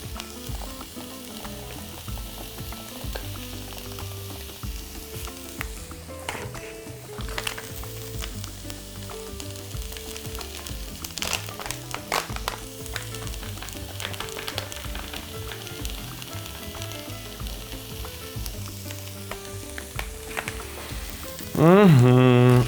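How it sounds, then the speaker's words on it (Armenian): Onion sizzling in a frying pan while beef rib dish cooking is prepared, a steady close crackle and hiss lasting throughout with light stirring, and a louder burst near the end. "սոխ տապակելիս, ինչու, որովհետև այդպես ավելի համեղ է սոխը"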